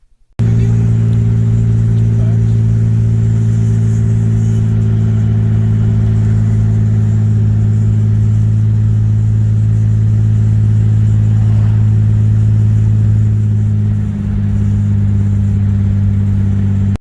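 Hot rod car engines rumble and idle steadily at a cruise event, a continuous low throaty drone holding for the whole stretch with a slight dip in tone near the end, close and loud with no talk.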